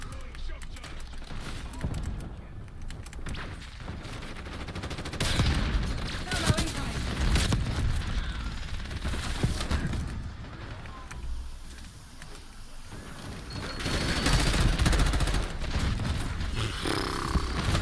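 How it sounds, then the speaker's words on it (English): Fire shotguns blast repeatedly in a Call of Duty match, loud bursts and roaring crackles coming in clusters amid chaotic game noise, with people talking over the action. "Who told them that fire shotguns were allowed?"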